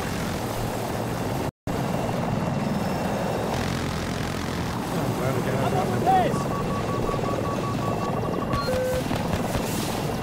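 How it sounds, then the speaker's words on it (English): In a Battlefield 2042 match, an aircraft engine drones steadily in the background with a whirring rotor-like hum, moderately near, while in-game noise and occasional voices continue around it. "Is there a chopper around me?"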